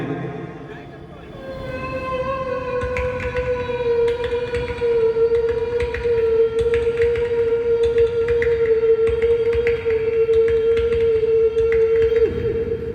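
A single voice imitates a moving train, holding a long steady siren-like whistle tone over a rumbling chugging undertone, loud and close, with brief rhythmic clicks suggesting track changes.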